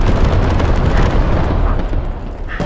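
An AAT tank blows up in a Star Wars Battlefront mod game as a loud, sustained explosive roar with no speech over it, a dense rumbling blast that fills the whole moment.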